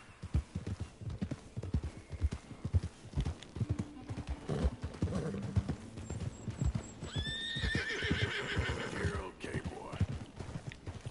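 A horse in the Red Dead Redemption video game gives a loud, quavering whinny over a steady clip-clop of hooves, with soft background game sounds throughout.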